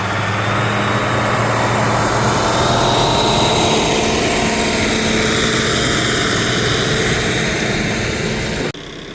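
A farm tractor engine drones loudly and steadily in a field being disced for a rye cover crop food plot, a constant low rumble with no voices, cutting off abruptly near the end.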